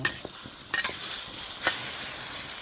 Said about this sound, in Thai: ผัดสักแป๊บหนึ่งพอให้แห้งนะครับผม